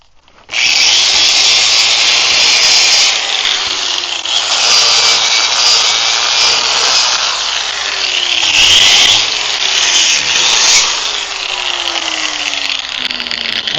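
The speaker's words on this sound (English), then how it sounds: "now I'm gonna just take the wire wheel and clean that flux off" A wire wheel on a grinder scours flux off a fresh weld during a log cart repair, a loud continuous abrasive whir with gritty scraping that runs unbroken after starting up.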